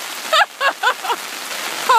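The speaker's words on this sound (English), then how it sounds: "It is now hailing up here at Silver Falls." Hail falls at Silver Falls, Oregon, as a steady hissing patter, with a few short voice-like calls over the top.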